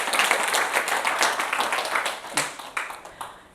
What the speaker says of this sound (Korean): 본인 핀이라고 생각하시는 분들만 박수 치시면 됩니다